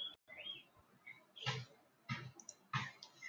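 Three distinct clicks of a computer mouse selecting a pay button, spaced about half a second apart over a quiet room background, close and fairly crisp.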